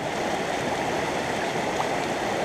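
Water rushes steadily through a gold sluice box set up in a stream, giving a continuous close broadband flowing wash with no talk.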